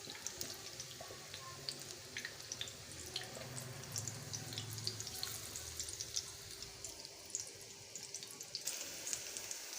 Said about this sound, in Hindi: इनको मसाला लगा के फ़ौरन फ्राई कर लेना